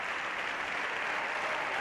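Sustained applause fills the Spanish parliament chamber, a dense, steady wash of many hands clapping with no pauses.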